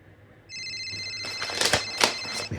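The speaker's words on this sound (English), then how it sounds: "My phone's ringing." A phone rings with a steady electronic tone that starts abruptly, then several sharp percussive bursts cut through it, loud and close, with no talk.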